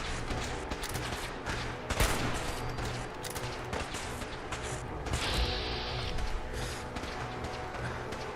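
Gunfire in Fallout 4 with the Sim Settlements 2 mod while fighting gunners, bursts of shots and rapid fire mixed with mechanical clatter, loud and close throughout.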